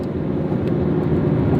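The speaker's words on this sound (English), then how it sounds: "I'm gonna downshift from 6th gear to 5th gear, and you guys will kind of hear" A Ford Mustang's engine drones steadily and loudly from inside the cabin during a downshift from sixth to fifth gear, the revs holding as a dense low hum without voices.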